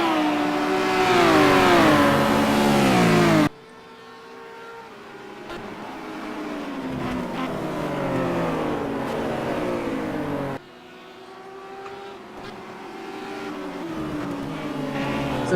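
GT race cars including an Audi, Nissan and BMW scream past at Brands Hatch, engines rising and falling through gear changes, the sound cutting abruptly between loud close passes and quieter distant running.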